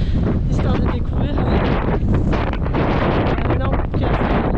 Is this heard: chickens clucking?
no